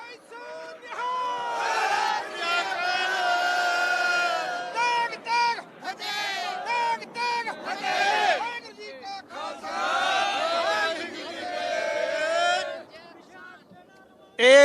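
A crowd of protesting farmers shouts Sikh jaikara slogans, loud massed voices rising in sustained, overlapping bursts of chanting with brief dips between calls.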